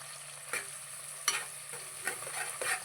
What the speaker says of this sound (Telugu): ఈ ఉల్లిపాయ పచ్చిమిరపకాయలు కొంచెం వేగాలండి కొంచెం వేగనిద్దాం